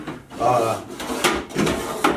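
The middle drawer of a small Kobalt metal mini toolbox, loaded with leatherworking tools, slides and clunks shut several times up close, with a voice talking in the background.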